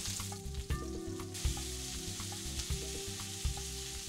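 Garlic frying in a pan gives a steady, close sizzle with a few soft knocks and stirring clatters scattered through, and no one speaking.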